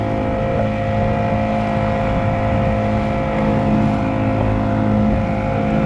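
An outboard motor on a Nucanoe Pursuit kayak out on the water runs as a steady, loud, close drone with a constant throbbing hum for the whole stretch, no voices over it.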